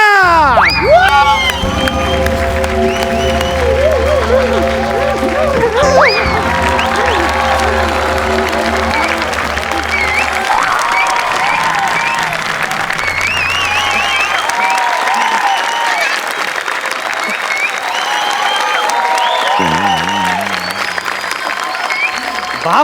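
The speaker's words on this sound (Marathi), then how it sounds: "लोकांनी तिकडे टाळ्या वाजवल्या" Comedy show studio audience applauds and cheers, a loud sustained wash of clapping with whoops and shouts, mixed with music and voices over it.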